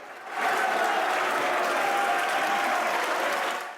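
Sustained applause from opposition deputies fills a French parliamentary chamber, a dense steady wash of many hands that swells in quickly and holds evenly throughout, with a faint voice tone running underneath.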